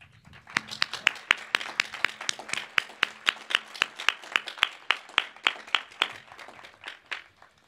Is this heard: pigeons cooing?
no